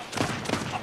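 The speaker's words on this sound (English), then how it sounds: "His cannons are aimed at us" Ship cannons firing in the pirate video game Sea of Thieves, two or three booming shots in quick succession, fairly loud against a noisy background.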